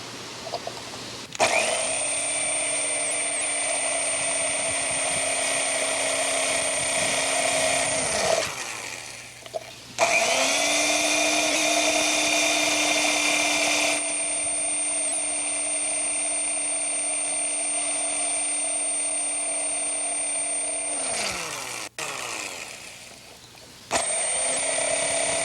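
A loud, steady power drill whines continuously in three long bursts, drilling holes into a carved turtle, spinning up and winding down between them, with short pauses in between.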